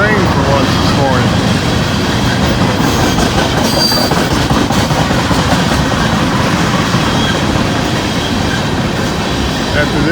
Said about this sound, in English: Looks like we're finally going to get a long train for once this morning.